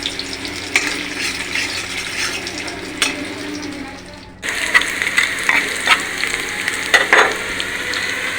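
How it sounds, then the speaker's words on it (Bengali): Red amaranth leaves frying with onions in a pan, a busy close sizzle with scraping stirs and clinks, a short lull before a louder burst of frying when the leaves go in. "এখন দিয়ে দিয়েছি লাল শাক একাধি লাল শাক ভাজি করব"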